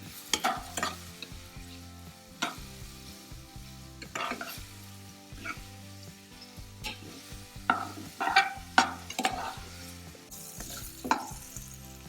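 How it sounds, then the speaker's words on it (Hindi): Chopped medium onions sizzle and fry in oil with ginger and garlic for a spicy mutton khurdi, with repeated stirring scrapes and clinks of a spoon against the pan over a steady sizzle, no talking. "मैं यहाँ 2 मीडियम साइज कटी हुई प्याज डाल के 5 मिनट के लिए फ्राई कर लूंगी।"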